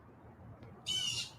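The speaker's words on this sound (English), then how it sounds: "The birds are up." Birds squawk loudly outdoors in a short burst of harsh, bright calls that rises suddenly over a low background rumble near the end.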